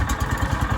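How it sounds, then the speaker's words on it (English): A Baja racing cart's engine running just after starting up, a steady mid-pitched motorcycle-like chug with a rapid, even pulsing rhythm, close and fairly loud, with no voices. "The engine started up great"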